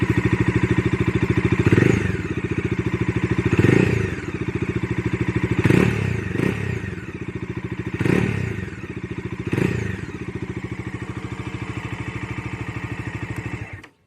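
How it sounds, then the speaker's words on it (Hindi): Bajaj Dominar 250 motorcycle idling steadily with a rumbling exhaust, close and loud, blipped up in several short revs spaced a couple of seconds apart before cutting off at the end. "That's the sound for Dominar 250cc."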